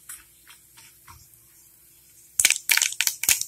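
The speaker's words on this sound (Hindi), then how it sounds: "देखिए अच्छे से तड़क गया है जीरा राई" Cumin, mustard and fenugreek seeds crackle in hot oil for a tomato chutney, faint pops at first, then a burst of loud, sharp, close crackles and spits.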